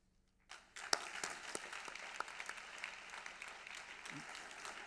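Audience applause at the 12th SCOPS award ceremony, a sustained wash of clapping from a seated crowd that starts abruptly and holds steady at moderate distance, with a few sharper individual claps standing out.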